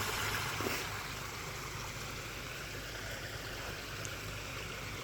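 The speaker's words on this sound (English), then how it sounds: "The waterfall." Garden koi pond waterfall giving a steady, soft rush of splashing water throughout, moderately close and quiet, no talk.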